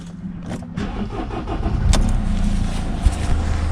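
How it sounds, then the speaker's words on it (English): Mercedes C Class W204 car engine turning over and starting up nearby, a short cranking burst followed by a steady idle hum that continues to the end with a few light clicks. "So I will start the car"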